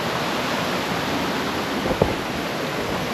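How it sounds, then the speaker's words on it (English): Fast-moving, high, muddy stream water rushes in a steady, dense roar, close and constant, with a brief knock partway through. "The water in here is moving pretty fast and it's pretty muddy and it's pretty high"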